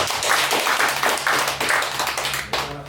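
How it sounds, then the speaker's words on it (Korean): An audience clapping during a talk on speech and communication, a lively, fairly close burst of many hands that fades out near the end. "박수 한번 쳐주세요"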